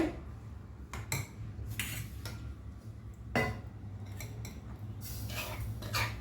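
Bombay rava being shifted into another vessel, scattered close scrapes and metallic clinks of a spoon against steel utensils, soft and intermittent with no talk.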